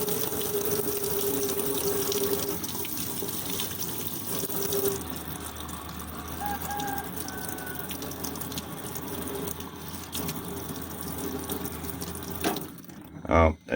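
Water running from a household tap fed by a freshly repaired Kalifont gas water heater, a steady broadband rush that continues for most of the stretch, then cuts off near the end with a brief clunk.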